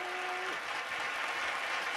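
Audience applause at a virtual demo of Lowrey Odyssey, Premier and Legacy organs, a steady wash of clapping across the whole moment, with a brief held tone over it at the start.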